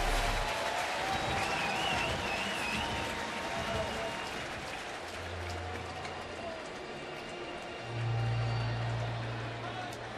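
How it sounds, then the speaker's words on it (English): A baseball stadium crowd applauds at a major-league game in St. Louis, a broad distant wash of clapping and crowd noise running throughout beneath a broadcaster's talk. "Nice round of applause"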